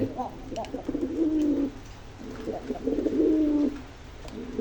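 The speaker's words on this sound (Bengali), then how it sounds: "আর যে এটা হচ্ছে মেয়ে কবুতর আর ওটা হচ্ছে ছেলে কবুতর" A pair of domestic pigeons, male and female, cooing in two low, throaty bursts separated by a short pause, close by against a light background hiss.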